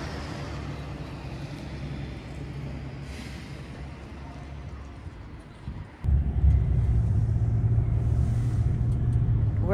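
Taxi ride through Cochem, Germany, a quiet low road rumble inside the car that swells sharply louder about midway and stays heavy to the end, with no talk.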